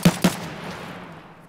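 Two sharp gunshots in a fast succession in Escape From Tarkov, each followed by a fading echo tail that dies away over about a second.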